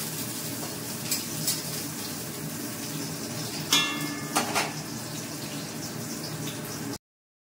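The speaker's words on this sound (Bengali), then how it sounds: "পেঁয়াজটা আমি ছেড়ে দিলাম। পেঁয়াজটা একটু ভাজা ভাজা হবে" Onions frying lightly in hot oil in a pan make a continuous sizzle, broken by a few sharp clinks of stirring partway through, with no talk.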